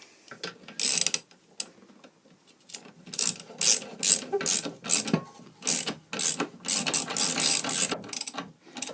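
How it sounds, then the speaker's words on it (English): A ratchet wrench winds a bolt home on a Snapper lawnmower during drive belt repair, giving loud, close rhythmic clicking strokes in repeated bursts with brief pauses, no voices. "I'll just wind it home with a bolt."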